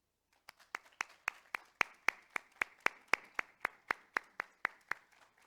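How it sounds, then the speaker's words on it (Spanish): A single person clapping in an even, steady rhythm at a tribute ceremony honoring women pioneers of geography, about twenty sharp claps, close and fairly faint, with no voices. "quiero que demos un aplauso a todas ellas"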